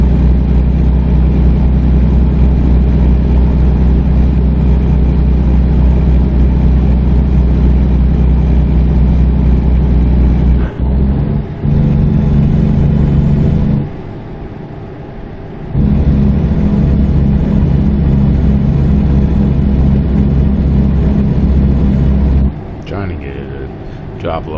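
Heavy truck engine in American Truck Simulator, a Lowbow rig, droning low and loud with steady rumble, briefly dropping out around mid-clip as the gear changes, then pulling again.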